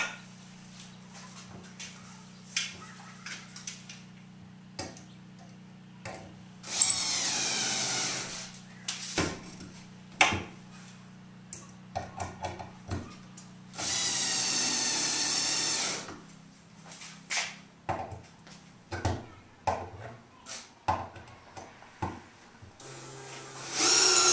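A drill drives long cabinet screws into wood in intermittent bursts of whirring, with a steady low hum underneath, a couple of longer sustained runs, and scattered clicks and knocks between them.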